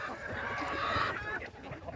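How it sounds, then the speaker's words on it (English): A Black Americana rooster gives a strained, raspy attempt at crowing that lasts about a second and a half, loud and close, with other farm fowl faintly in the background. "He's crowing. He's trying to crow."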